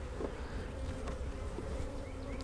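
Honey bees at an open hive drone in a steady, dense buzz close by, with occasional individual bees whining past; no talking.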